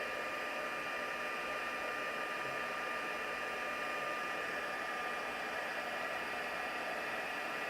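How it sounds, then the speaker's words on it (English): A heat embosser for card making warms up with a steady, even blowing hiss that runs unbroken and fairly loud close by, with no talking. "we're going to come in with our heat embosser"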